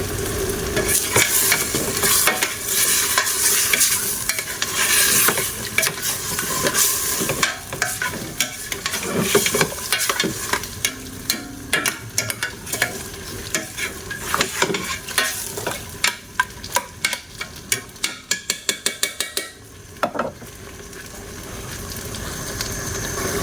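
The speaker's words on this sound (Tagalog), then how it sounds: "Haluin natin." A spoon scrapes and stirs through peppered macaroni soup in a cooking pot, steady and close, with a faint simmering sizzle underneath and brief pauses between strokes.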